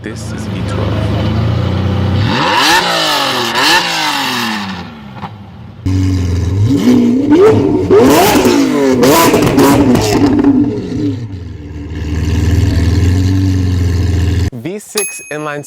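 A V12 car engine revs loud and close, climbing sharply in repeated bursts with brief drops back to idle. A short ringing chime sounds at the very end.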